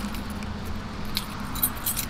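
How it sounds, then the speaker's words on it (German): Car keys jingle in a jacket pocket, a few soft metallic clinks and rattles over a low rumbling background that sounds like traffic, with no talking. "Ist da der Autoschlüssel?"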